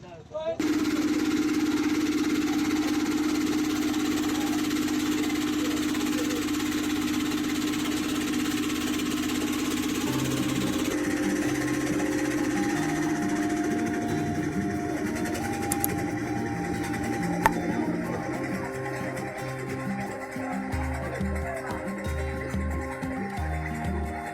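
The engine of a passenger boat crowded with travellers on the river at Jaflong, Sylhet, hums and throbs steadily throughout while people talk over it.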